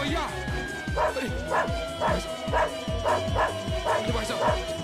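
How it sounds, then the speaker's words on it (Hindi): A dog barks in a fast, steady series of about a dozen sharp barks, close and insistent, while people talk excitedly over the noise. "अरे भैया, कोई ये कुत्ते को रोको भैया"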